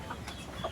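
Chickens cluck on a small farm in a brief, close burst of clucks over a steady background hiss.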